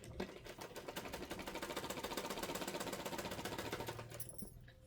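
A sewing machine stitching a frock runs in a fast, even rapid-fire clatter of needle strokes, close and steady, then slows and stops near the end.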